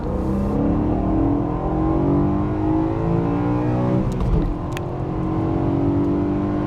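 A 2011 BMW M3 with 414 horsepower accelerating hard in second gear from about 30 mph, the engine note climbing loudly and steadily from inside the car, then a brief dip at the shift before the drone resumes.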